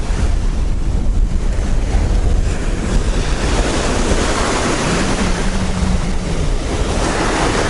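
Ocean surf rolls onto a beach at a seaside campground, with a steady broadband wash and wind buffeting the microphone throughout. Nobody speaks.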